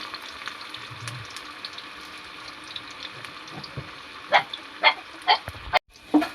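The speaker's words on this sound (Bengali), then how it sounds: "এবারে উল্টে পাল্টে এরকম ভেজে লাল লাল করে ভেজে তুলে নেব" Pea pakoras sizzle in hot frying oil with a steady hiss, and a few louder pops and splutters come near the end as the fritters are turned. No one speaks.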